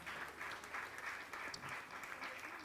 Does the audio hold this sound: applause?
yes